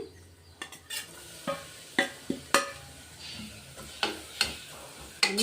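Cashews and coconut frying in a pan, with a steady background sizzle broken by sharp clinks and scrapes of a spatula stirring against the metal, close and clear with no talking.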